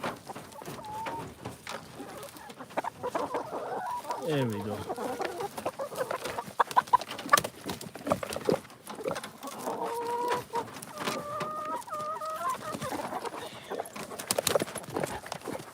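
Chickens cluck and call repeatedly nearby amid scattered thuds and rustling, with a brief spoken remark partway through.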